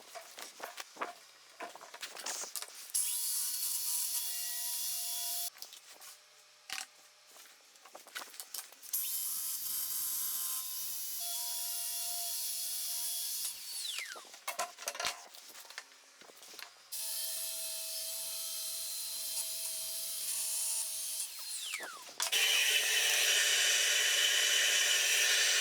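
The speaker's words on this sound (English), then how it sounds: "So I'll just put a track saw on it, cut it up a little bit" A track saw cuts through a board in several long passes, each a loud sustained whine with a steady tone, separated by brief pauses and handling noises, ending in a harsher, brighter burst.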